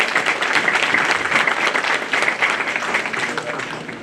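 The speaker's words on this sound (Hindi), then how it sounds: "सब मिलकर जोरदार तालियों से इन लोगों का स्वागत करें।" Loud audience applause welcoming speakers at a Bar Council of Delhi enrolment meeting, dense sustained clapping from a seated crowd with some voices mixed in throughout.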